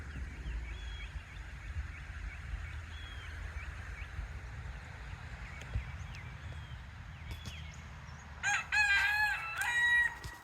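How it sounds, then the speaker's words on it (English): Peacocks on a farm give faint, scattered calls at first, then a louder burst of harsh, repeated cries near the end over quiet outdoor background noise. "the peacocks are having a great time"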